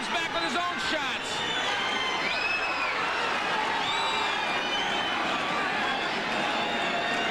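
Boxing crowd in Bossier City roaring steadily during a USBA 147 lb title bout, a dense continuous wash of cheering with higher whoops and shouts rising above it throughout.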